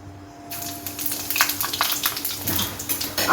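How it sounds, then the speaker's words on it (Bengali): Panch phoron spices dropped into hot mustard oil for a Bengali fish curry with cauliflower and potato, setting off a loud, steady crackling sizzle with sharp pops throughout, heard up close. "তেলটা আমার গরম হয়ে গেছে, এবার আমি এখানে দিয়ে দিচ্ছি একটু পাঁচফোড়ন"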